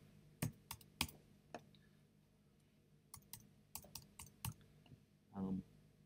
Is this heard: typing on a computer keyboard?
yes